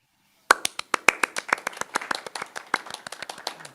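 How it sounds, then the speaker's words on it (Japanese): An audience at a Tokyo open-data hackathon demo day claps for a presenting team. The clapping starts abruptly, fairly close and distinct, then settles into a brisk, loosely rhythmic patter that slowly thins. "ふわらぼさんにもう一度大きな拍手をお願いします"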